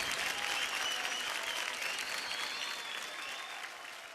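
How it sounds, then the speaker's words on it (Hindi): Enthusiastic audience applause after a dance performance on a TV dance show, a dense wash of clapping that fades slightly toward the end, with some faint voices mixed in. "जोरदार तालियां हो जाए ऋषिता के लिए"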